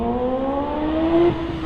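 A supercharged Westfield race car pulls away from a hillclimb start line, its engine note climbing steadily through the gears, loud and close, then peaking with a sharp high whine before easing off.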